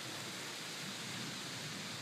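Steady, dense rain patters on a barn roof overhead, a continuous soft hiss with no voices.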